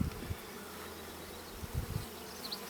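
Honey bees at a hive being worked by a beekeeper buzz in a soft, continuous drone, with a few closer low hums rising briefly above the steady background.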